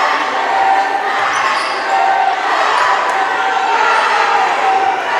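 Home crowd at a school playoff basketball game roaring and cheering continuously, loud and sustained, with a commentator's voice over the noise.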